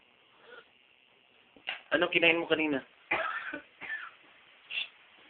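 A few short coughs and throat-clearing sounds, close and fairly faint, with a young voice making brief sounds in between.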